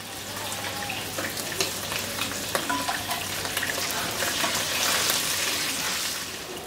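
Pieces of rohu fish sizzle in hot oil in a pan, a soft, steady bubbling hiss with light crackles and occasional spatters, fairly quiet and near, with no one speaking.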